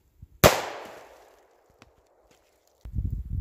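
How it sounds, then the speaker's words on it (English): A single loud 500 Magnum revolver shot with heavy 700-grain hard cast rounds cracks once and rings out in a long decaying tail, followed by a few faint clicks and then low rumbling handling noise. "500 mag, we're shooting 700 grain hard cast ammo"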